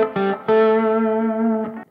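Electric guitar on its bridge pickup, an All In One Guitars LP-style model, rings out in sustained clean chords, struck twice with a brief restrum near the end, loud and close with no talk.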